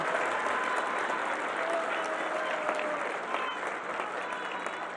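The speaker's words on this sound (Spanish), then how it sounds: "le enviemos un fuerte aplauso al presidente por esta gran iniciativa" Crowd applause for the president at a public welfare programs event in Mapimí, Durango: a thick, even roar of clapping from a large audience, steady throughout with some crowd noise mixed in.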